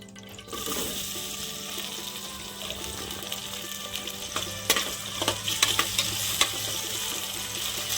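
Cut potato pieces drop into hot oil for a peanut curry and set off a sudden, steady sizzle of frying, with a few sharp crackles and pops near the end.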